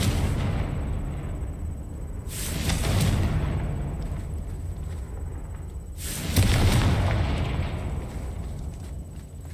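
Two loud blasting-curse explosions go off in the Hogwarts Legacy video game, each a sudden broad burst that decays over a few seconds, about four seconds apart, above a quiet ambient backdrop.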